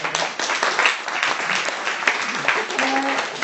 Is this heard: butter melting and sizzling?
no